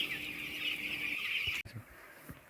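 Chickens on a poultry farm cluck steadily in a dense, continuous chorus of many birds nearby, which drops abruptly partway through to a quieter stretch with scattered clucks and soft knocks.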